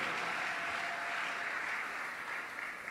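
A church congregation applauds and cheers the Lord during a worship service, a steady, dense wash of clapping and voices that holds evenly for the whole stretch without any speech.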